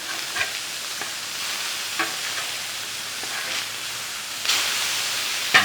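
Brisket burgers sizzle on a Blackstone griddle, a soft steady frying hiss up close with occasional brief scrapes and pops and a louder burst of sizzle near the end.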